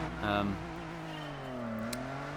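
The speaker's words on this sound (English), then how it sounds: "In terms of this 3000 GT, it sounds more like a 6-cylinder, which is good. A 3-litre." A Mitsubishi 3000 GT with a 3-litre six-cylinder engine, in Gran Turismo 4, gives a short rev that dips and climbs again. The engine tone is moderately loud, with a brief burst of other noise near the start.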